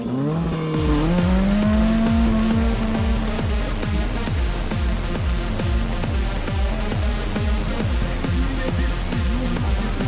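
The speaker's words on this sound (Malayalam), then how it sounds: "ഇത് ഒരു തരത്തിലുള്ള കൺട്രോൾ ഡ്രൈവാണ്, റേസിംഗ് പോലെയല്ല." An autocross race car laps a closed track, its engine revving hard and steady with rising and falling pitch as it accelerates and brakes through the course, loud and close throughout with no talking.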